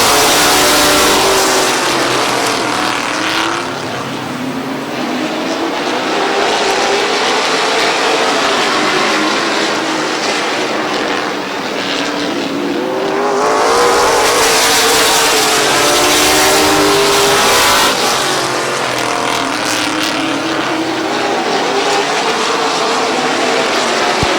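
Race cars roar and accelerate in a pack at Midvale Speedway, the engine noise swelling loudly as they pass and fading before surging again, continuous and close.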